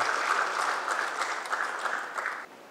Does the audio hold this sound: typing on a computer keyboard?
no